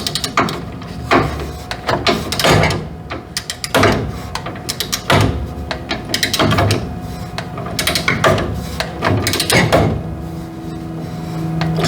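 Circuit breaker feeder lugs on a three-phase 400 amp breaker being tightened with a torque wrench, giving a series of close, sharp ratcheting clicks and metallic clacks in irregular bursts with no talking.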